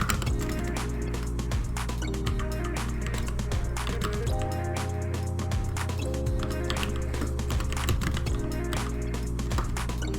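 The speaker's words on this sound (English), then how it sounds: "I'm just going to type." Typing on a computer keyboard, heard as a rapid, irregular run of close clicks over a steady background hum.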